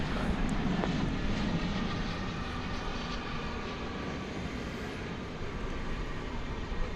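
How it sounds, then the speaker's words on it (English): A UPS cargo plane heading to Rockford passes over a house near DFW Airport in the evening, a steady broad jet roar that fades slowly and stays fairly loud throughout. "That UPS to Rockford just flew over the house."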